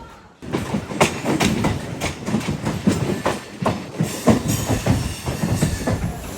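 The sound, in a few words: Nellore to Vijayawada MEMU Express train running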